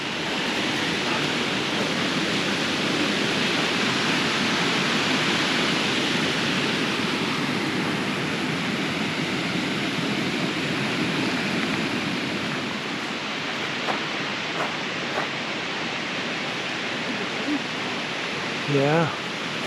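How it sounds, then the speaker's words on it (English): Water flows and splashes in a steady, continuous rush, loud and close, with a few faint bird chirps near the end. "I love that sound of water, particularly on a scorching day."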